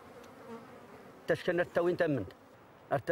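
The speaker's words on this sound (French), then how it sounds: "Les ruches demandent beaucoup de soins pour à peine quelques kilos de miel." Bees buzz around beehives in a Moroccan Atlas valley, a faint steady hum that runs throughout, with bursts of nearby voices talking over it midway and at the end.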